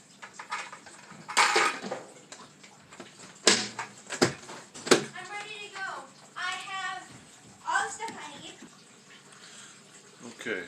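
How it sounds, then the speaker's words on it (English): Plastic lid pressed onto a homebrew fermenting bucket, several knocks and snaps spread out in a close, quiet room, with a person talking in between. "Put the lid on."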